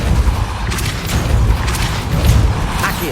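A Depulso force-push spell in the Hogwarts Legacy video game lands as a series of deep booming thuds, heavy low-end blasts with rumbling impacts repeating over a few seconds.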